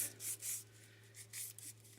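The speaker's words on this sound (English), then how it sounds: "it doesn't have to be a lot of sanding, it's just to get the initial shine off" Soft rhythmic rubbing strokes, wet sanding of resin on a mixed media bracelet, repeating back and forth at a steady pace, quiet and close, over a low electrical hum.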